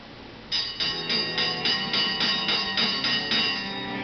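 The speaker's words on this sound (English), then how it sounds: "let's ring that school bell." A bell rings in a steady series of about eight evenly spaced strikes, bright and fairly loud, with no voices.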